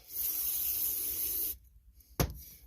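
Aerosol cleaner sprayed onto a carburetor from a Craftsman T2200 riding lawn mower: a steady close hiss for about a second and a half, silence, then one short sharp burst.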